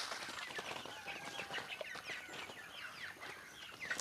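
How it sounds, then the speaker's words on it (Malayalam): Young chickens, bought as chicks, in a backyard home coop in Kerala, giving repeated chirpy clucks and cheeps with occasional wing flaps, moderately close and steady throughout, with no talking. "ഇതൊക്കെയാണ് എൻ്റെ കോഴിമക്കൾ."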